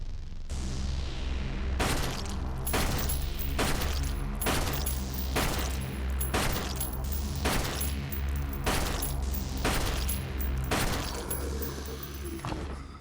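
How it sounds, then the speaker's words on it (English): Rapid bursts of gunfire in the horror game Flesh Made Fear, roughly ten loud shots fired in quick succession with ringing tails, over a steady background hum. "That was a lot of bullets."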